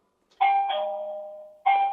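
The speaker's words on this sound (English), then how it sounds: "right here, the doorbell." A two-tone electronic chime sounds from a smart door lock's doorbell, loud and clear in a quiet room, with a long first ding-dong and a second chime starting near the end.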